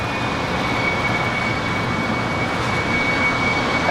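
An airliner at Los Angeles LAX airport, a steady loud engine roar with a thin high whine on top, continuous and fairly near.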